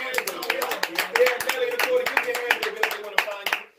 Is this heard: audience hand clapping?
yes